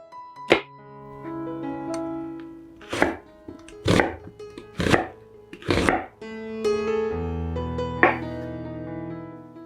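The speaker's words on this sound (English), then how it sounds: "slice the onion and mushrooms." A knife on a cutting board slices onion and mushrooms for a vegan Korean tteokbokki, making about eight crisp, close chops at an irregular pace with short pauses between them.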